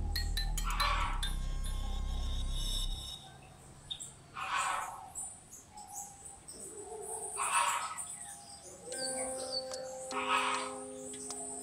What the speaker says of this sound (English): And another birdhouse and another Java rice finch